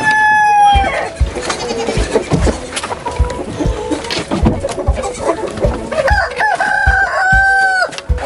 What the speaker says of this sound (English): So I'm letting the chickens out.